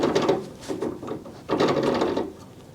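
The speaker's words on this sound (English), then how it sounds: "Now the pin, jiggle, jiggle, jiggle," A kickstand pin being jiggled free on a chopper motorcycle, giving close, repeated metallic rattling and clicking in uneven bursts with no speech.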